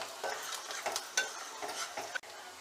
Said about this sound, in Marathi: आता कांदा आपल्याला छान मस्तपैकी तांबूस असा परतून घ्यायचा आहे